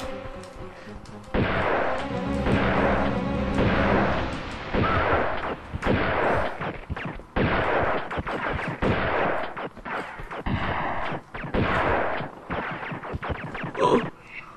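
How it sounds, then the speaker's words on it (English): Enemy shooters firing at the player in the Tomb Raider 2 opera house level, a dense run of repeated gunshots in bursts and single cracks, loud and sustained throughout. "I'm being shot at multiple angles and I don't know where they are."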